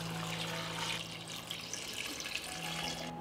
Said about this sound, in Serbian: U šerpu sipam 2 litre hladne vode.